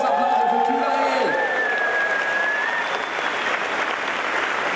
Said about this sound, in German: Nochmal einen großen Applaus für Tyrael.